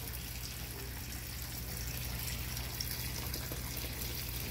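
Hot water runs steadily from a tap, a constant rushing hiss that stays even and fairly loud throughout with no other sounds.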